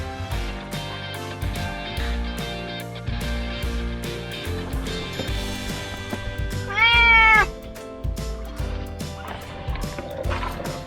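A single loud, drawn-out cat meow rises about two-thirds of the way through, over steady background music, with the animal at a rabies vaccination.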